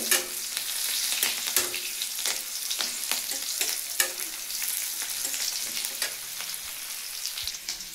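Onions fry in a hot pan with a loud, steady sizzle, broken by the scrape of occasional stirring, close up, with no one talking.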